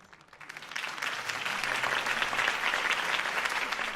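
Crowd applause in the Telltale Batman video game, swelling up from quiet into a sustained, fairly loud wash of clapping from a large audience that holds steady to the end.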